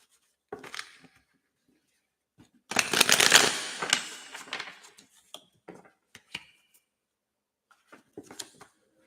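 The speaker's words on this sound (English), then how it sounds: "I'm just going to shuffle the cards" A deck of tarot cards shuffled close by in several bursts, with a long riffle in the middle and shorter flicks and taps before and after.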